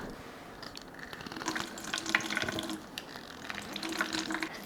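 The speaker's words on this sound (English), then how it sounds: "Next, we're gonna need the juice from 1 lime." Juice being squeezed from a single lime by hand in a home kitchen while making a dinner seasoning mix, giving a close, continuous wet squishing and trickling with small splashes and no talking.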